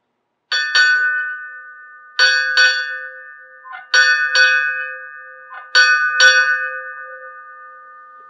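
A ship's bell rings at a United States Navy 245th birthday ceremony, struck in clear ringing pairs, four pairs spaced evenly, each pair decaying slowly before the next.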